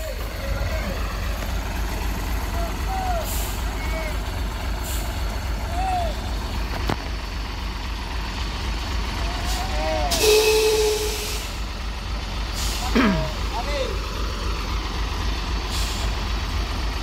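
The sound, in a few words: truck engine and air brakes during towing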